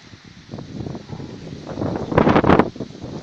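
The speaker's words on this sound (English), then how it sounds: "It's a bit windy on the farm today." Gusty wind blows across an open pepper farm planted with blocks of yellow Scotch bonnet peppers, rumbling against the microphone with stronger buffeting gusts near the end.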